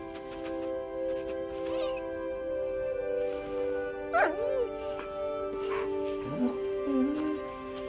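A dog in Kingdom Come: Deliverance II whimpers and whines in rising and falling cries, with a few short yips, over a steady droning background.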